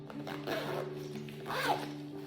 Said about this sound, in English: to close the zipper, you hold on that same part and pull it in the opposite direction